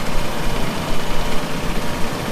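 An AGCO tractor engine runs steadily during a factory test, a loud, constant low rumble with broadband mechanical noise and no break throughout.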